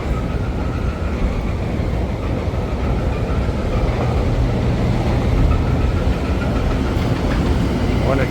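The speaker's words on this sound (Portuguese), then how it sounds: "o metrô já está chegando aqui" A São Paulo metro train pulls into Santa Cruz station with a loud, steady rolling rumble and the rattle of the wagons, filling the whole stretch without letup.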